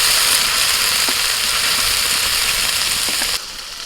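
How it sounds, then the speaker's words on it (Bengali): Shrimp lightly frying in hot oil, a loud continuous sizzle with faint crackles and the occasional scrape of a utensil, easing slightly near the end. "চিংড়ি মাছ একদম হালকা করে ভেজে তুলে নিচ্ছি"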